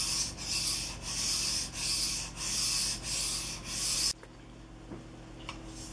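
A pig sticker knife blade is stroked back and forth on a 500 grit sharpening stone, giving loud, steady rhythmic rasping passes about every half second, then stopping abruptly into quiet with a couple of faint taps.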